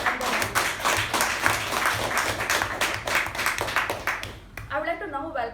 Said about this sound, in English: can we have a big round of applause for both the feedback and the